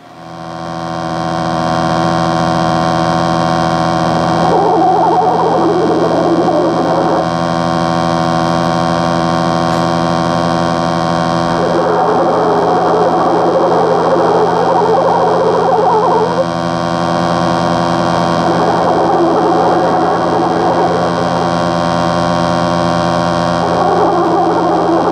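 Kasco The Driver arcade film-strip machine running, a loud steady electrical hum with layered tones and a constant mechanical drone, broken by bursts of noisy clatter every few seconds, with no talking.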